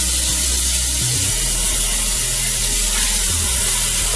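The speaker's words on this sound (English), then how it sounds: "I'm going to add the onion and the celery." Chopped onion and celery added to a hot pot for matzo ball soup, a steady loud sizzling hiss with faint stirring clatter underneath, close and continuous with no talk.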